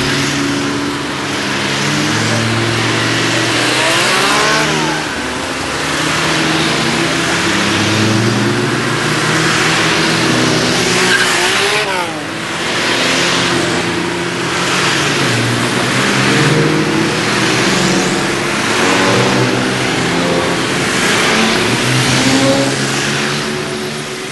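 A stream of classic Mercedes W113 Pagoda cars drives past one after another, engines revving and rising in pitch, loud and close, with no talking.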